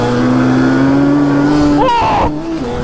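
A two-stroke motorcycle engine with food coloring added to its fuel idles loudly with a steady buzzing drone, then revs sharply upward near the end as the ride begins.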